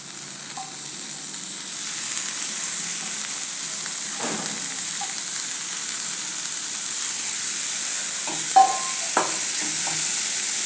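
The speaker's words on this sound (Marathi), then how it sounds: "ते व्यवस्थित परतून घ्यायचं ते थोडं परतलं की याच्यात आपण कोथिंबीर घालून घेऊया" Coriander leaves sautéing with spices in a pan over low heat give a steady, moderate sizzle, broken by a few light scrapes and taps of a spoon while stirring.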